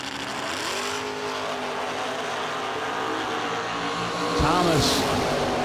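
A Chevelle drag racing car roars down the strip at a no-delay drag racing event, its loud engine note climbing steadily and then fading with a sharp pass-by sweep near the end, under a track announcer's voice.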